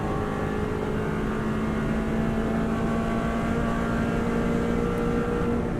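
A Subaru Impreza race car runs flat out at full throttle, a dense, loud, continuous engine roar with a steady high whine and no pause, recorded from on board.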